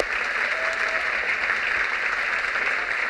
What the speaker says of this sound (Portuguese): Vamos chamar uma salva de palmas.